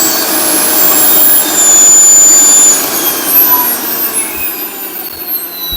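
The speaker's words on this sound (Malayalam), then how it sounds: "ഇത് ഭയങ്കര ഒച്ചയുണ്ട്, വേറെ സ്പീഡിൽ ഓടുന്നുണ്ട്" A mixer grinder runs loudly at another speed, a continuous harsh motor whine with a slight dip partway through, close and unbroken.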